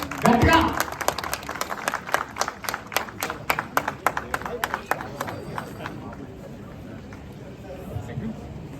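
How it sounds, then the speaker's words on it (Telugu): Audience clapping at a political party event, bursts of hand claps that fade after a few seconds, with a voice over a loudspeaker at the start. "దయచేసి అందరూ గట్టిగా ఒకసారి చప్పట్లు కొట్టాలండి"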